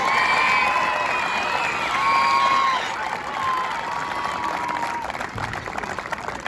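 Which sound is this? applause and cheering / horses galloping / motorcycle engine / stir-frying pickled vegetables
applause and cheering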